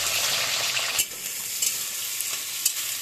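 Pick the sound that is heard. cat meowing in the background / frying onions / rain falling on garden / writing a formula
frying onions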